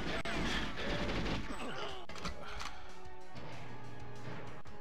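Gunfire at Trevelyan in GoldenEye 64, a few sharp loud shots and crashing impacts early on that give way to quieter game sounds and a low steady tone.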